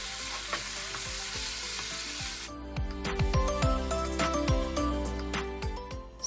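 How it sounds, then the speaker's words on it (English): Chicken pieces fry in hot oil in a pan, first as a loud, dense, even hiss, then as a sizzle that becomes crackling and popping once the pieces are moved, all close by with no talk. "I heated some oil in a pan and I added in the chicken"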